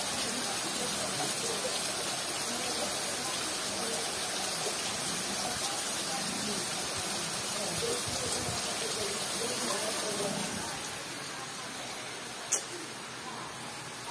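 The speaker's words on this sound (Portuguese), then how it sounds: "Ainda tá chovendo aí" Steady broadband hiss of rain falling in northeastern Brazil, constant and fairly close, with a faint shift in level near the end and a brief click.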